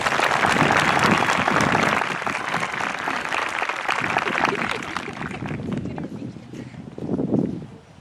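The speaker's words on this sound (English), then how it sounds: "Let's give them another round of applause." An audience at a 2021 Mepham graduation ceremony applauds, loud sustained clapping that gradually thins out, then a brief swell near the end.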